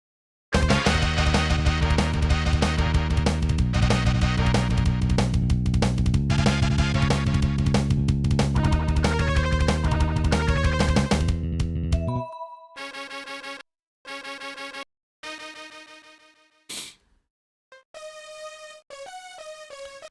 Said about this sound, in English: Sounds like some kind of a pad.